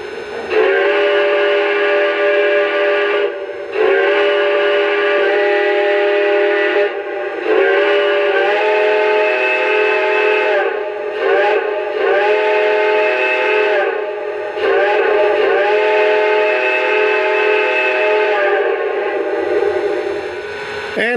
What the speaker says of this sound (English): Okay, first up, let's check out the whistle